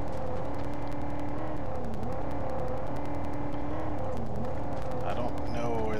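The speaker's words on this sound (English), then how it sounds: "If that is a car making that noise" A car engine in the Mad Max video game, a continuous droning whir with shifting revs that holds steady throughout, mixed with game ambience and a voice talking over it.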